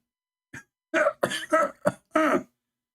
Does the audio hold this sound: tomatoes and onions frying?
no